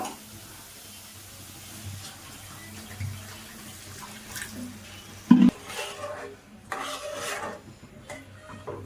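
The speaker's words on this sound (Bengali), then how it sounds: "মশলাগুলো কষানো হয়ে গিয়েছে, এখন আমি জল দিয়ে দেব।" Water splashes into a pan of fried spices for a Bengali hilsa fish curry, starting as a sudden burst partway through, then running in a few rushing, bubbling bursts over quiet kitchen background.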